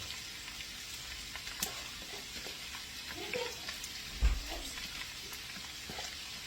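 Vegetables tossed into gango already frying golden brown in a pan, giving a steady close sizzle with a few clatters and stirring knocks, while someone talks over it.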